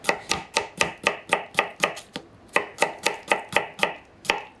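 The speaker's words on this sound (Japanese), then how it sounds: "これスローモーションで見るとちゃんとこうやってこう押して切ってるんです。" A knife cuts through turnip on a cutting board in a quick, steady series of crisp chops, about a dozen sharp evenly spaced strikes with a short pause partway through, close and alone.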